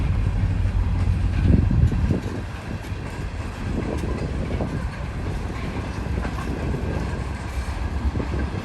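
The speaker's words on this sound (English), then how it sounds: "Running long hood forward. That just means the locomotive is running backwards." A locomotive rolls past running long hood forward, giving a steady rumble and rail noise. A louder swell comes early on, and the sound then settles into an even, continuous roll.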